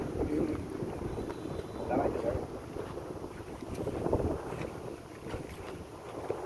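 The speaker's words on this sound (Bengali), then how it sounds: "বাতাসটা কিন্তু সেই মজা লাগতেছে" Wind gusts against the microphone in rough, rumbling waves that rise and fall, loud and near, with faint background sounds beneath.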